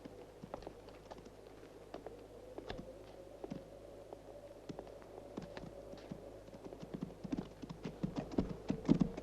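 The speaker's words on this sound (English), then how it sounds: "Bob, take care of the horses, will you?" Horses clip-clop along at a walking pace toward a stable in a Western town, a steady patter of hoof strikes that grows busier and a little louder toward the end, with no voices over it.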